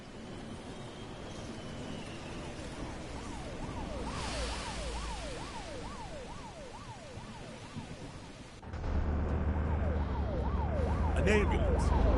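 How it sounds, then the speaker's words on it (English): Wailing ambulance siren from the video game Truck Driver, sweeping up and down steadily over low road and engine rumble, growing louder and nearer partway through. "An ambulance."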